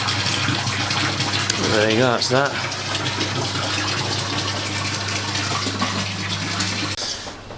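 Water gushes steadily from a drained fish tank drum filter, a loud continuous rushing flow with a low hum underneath, while someone speaks briefly over it; the flow cuts off near the end.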